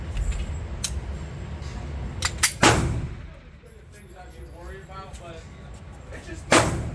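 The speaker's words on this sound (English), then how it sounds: "Let me get one more shot, bro." Glock pistol firing outdoors, several sharp loud shots spaced a few seconds apart, with quieter background noise in between and no talk.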